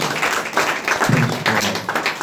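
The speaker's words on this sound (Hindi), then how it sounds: "एक अच्छा ताली बजाएं प्रभु के लिए।" A church congregation claps for the Lord, a dense burst of many hands that swells and continues steadily for a couple of seconds, with a voice briefly audible underneath.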